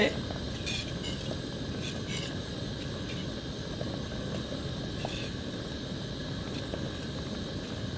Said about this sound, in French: Oups, l'eau à ébullition dans le feu.